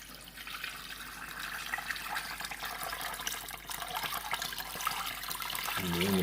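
Boiled jaggery syrup is poured through a strainer, giving a steady liquid splashing and trickling that stays close and fairly loud throughout, with a brief clink near the end.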